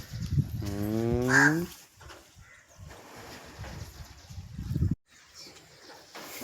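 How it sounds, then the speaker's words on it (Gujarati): A cow stands near her young calf and gives a loud, drawn-out moo up close, followed by quieter rustling, a few soft sounds and some faint background voices. "તો ગાય જોઈ શકો છો"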